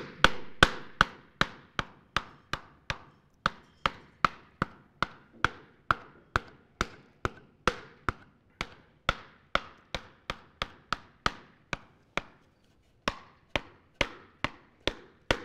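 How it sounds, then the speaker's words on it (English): Clay is worked in a pottery demonstration with a steady series of sharp, close taps and thumps, roughly two or three per second with a brief pause near the end, no voices. "So I'm scuffing that clay."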